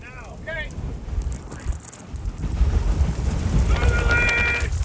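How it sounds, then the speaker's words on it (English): Roaring tornado wind buffets the microphone from inside a tornado in southern Minnesota near Truman, a steady loud rumble with brief tonal whines, while people talk and shout over it. "You're in the tornado, Jesse."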